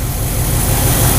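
A 1969 Chevy engine runs steadily at idle during a timing check, giving a close, constant low rumble with no change in pitch over a brief moment.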